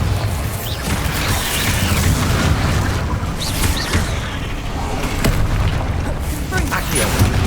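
Booming spell explosions from the Bombardo charm in Hogwarts Legacy, dense, rumbling blasts repeating amid continuous game noise, with a voice speaking over the action.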